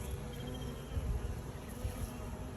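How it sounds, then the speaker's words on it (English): A dense swarm of bees hums continuously close by, a steady low buzz filling the air with no voices. "Oh, we got a bunch of the bees returning."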